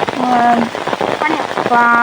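Heavy rain pours steadily on a surface close by while someone talks over the downpour.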